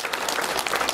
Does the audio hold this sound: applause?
yes